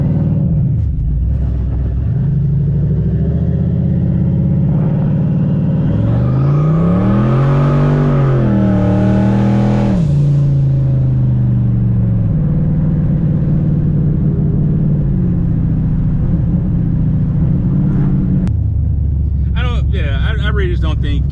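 A turbocharged SN95 Ford Mustang makes a hard pull, its engine rumbling low and then climbing and revving up loudly in a rising surge before settling back to a heavy idle, recorded close, with a voice speaking over parts of it.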